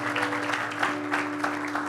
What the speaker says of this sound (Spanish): De un aplauso, Señor, fuerte esta mañana de alabanza